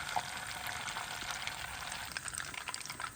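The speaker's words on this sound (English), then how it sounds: "Now the sizzling is going down and the bubbling is starting, and it is browning up really nicely." Butter sizzles and bubbles steadily in a pan as it browns for a pistachio chocolate cookie, a dense close crackle with small pops and no voices.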